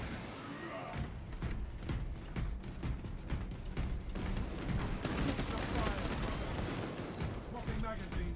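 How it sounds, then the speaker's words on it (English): A heavy bolter in Space Marine 2 gets its magazine swapped: a dense run of clacking, ratcheting metal clicks and clunks, close and busy, with game sounds layered underneath. "Swapping magazine."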